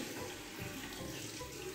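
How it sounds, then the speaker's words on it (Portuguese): Hot water pours steadily from a bathroom tap into a sink, a soft continuous splashing hiss with no voices. "pôr uma água quente aqui"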